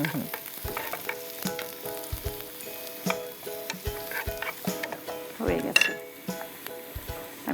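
Garlic frying in oil in a pan, a continuous busy sizzle broken by frequent sharp stirring clinks and scrapes of a utensil against the pan, close and moderately loud.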